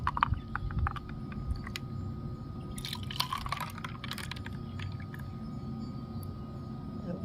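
Homemade dahi lassi, a yogurt drink, being poured from a container, a soft continuous liquid flow with scattered close drips and splashes over a low background rumble.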